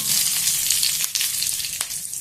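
Dried red chillies and curry leaves frying in hot oil, a loud continuous crackling sizzle heard up close with a couple of brief stirring clicks, no talking.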